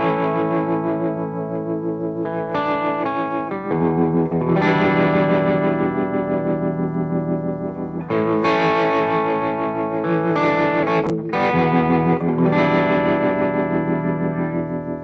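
Electric guitar played through a DOD Vibro Thang vibrato pedal into an OCD overdrive set fairly low gives warm, slightly fuzzy chords and riffs with wavering modulation, loud and continuous with no talk.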